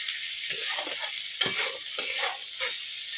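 Chopped vegetables frying in a pan, a soft sizzle broken by several distinct scraping stirs of a spatula at irregular intervals.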